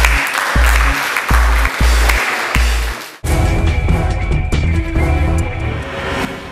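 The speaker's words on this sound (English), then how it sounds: "give them a proper round of applause" Audience applause follows a thudding beat of music, then a dense wash of many hands clapping continues loudly to the end, with a brief spoken word near the close.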